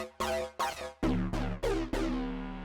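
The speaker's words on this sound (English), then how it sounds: "I'll be using an acid preset we have called Acid Evolution" Acid Evolution synth preset with a modern 303-style acid tone, detuned: a run of bright, buzzy sequenced notes with resonant filter sweeps, each stab sliding down in tone, loud and alone.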